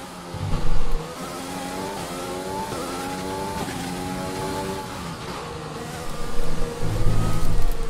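F1 car engine in the F1 2020 video game on the Abu Dhabi circuit, loud and close, revving up and down through rising and falling gear sweeps with bursts of throttle and faint tire squeal.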